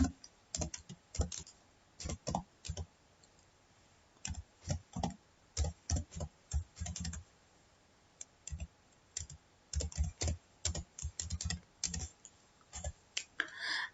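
Python code being typed on a computer keyboard, with short clustered bursts of crisp key clicks and pauses between them, close and alone.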